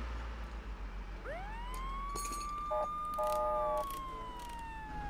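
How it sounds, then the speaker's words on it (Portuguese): A police car siren in the video game ARMA 3 (Altis Life) wails up and holds a long steady tone, with short electronic yelp bursts layered in, over a low rumbling engine hum. "pode dar sirene"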